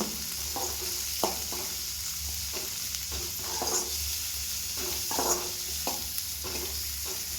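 Shallots and curry leaves fry in a pan for a dry fish poriyal while being stirred. Steady sizzling is broken by repeated scraping spoon strokes at an irregular rhythm, heard up close with no one talking.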